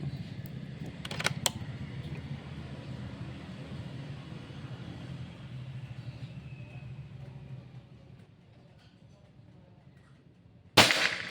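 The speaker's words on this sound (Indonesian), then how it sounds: "Tembakan keempat." A Pajerogun Gen 5 air rifle fires its fourth shot during an accuracy test, one sharp crack near the end after a long stretch of low ambient hum.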